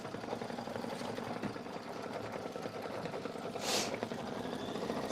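A sewing machine runs a dense satin stitch, giving a continuous fast motor hum and rapid needle clatter close by, steady throughout, with a brief brighter hiss near the end.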